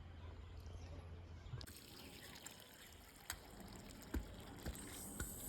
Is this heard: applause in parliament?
no